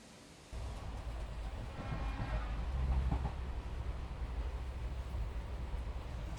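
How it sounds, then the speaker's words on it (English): An old steam train rolls through the Himalayan foothills toward Shimla, a steady rumbling clatter of carriages that swells slightly midway and continues at moderate distance, with no voices. "The old steam trains make up for the chaos of the carriages."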